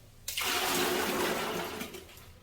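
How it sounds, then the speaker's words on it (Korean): A clogged toilet flushes with a sudden loud rush of water that swirls for about a second and a half before gradually draining away. "물을 붓고 내립니다"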